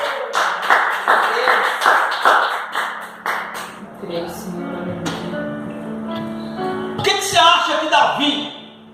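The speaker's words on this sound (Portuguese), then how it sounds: "Se você crê, então aplauda esse Deus poderoso." A church congregation claps together in a burst during a Portuguese-language worship service, the clapping fading after a few seconds as a voice and music carry on.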